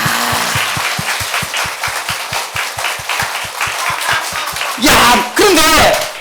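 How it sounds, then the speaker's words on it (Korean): A church congregation claps in a fast, even rhythm together, loud and close, then breaks into a louder burst of cheering and clapping near the end, with voices mixed in. "우리 하나님께 박수 한번."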